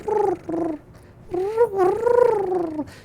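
A voice imitating a kitten in heat with drawn-out, rising and falling yowls, close and loud, in a few wavering bursts with a short pause between them.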